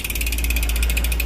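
A modified freehub ratchet on a Polygon Xtrada 6 mountain bike, with its pawls stiffened, clicks loud and close in a rapid, even, continuous stream of sharp ticks.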